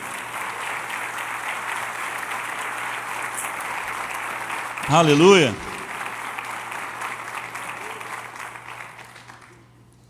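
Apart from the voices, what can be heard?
congregation applause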